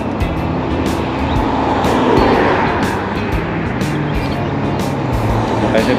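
Highway traffic passes a cyclist in the Philippines who is riding against the flow along the roadside. A loud, continuous roar of cars and trucks swells as vehicles go by, with bursts of wind noise and someone talking over it.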